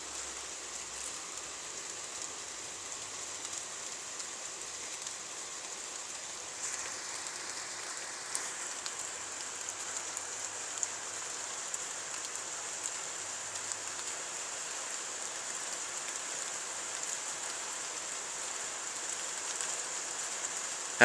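Rain falls steadily during a violent thunderstorm in Carpentras, a continuous hiss of drops on surfaces that grows slightly denser over time, with faint scattered taps and no voices.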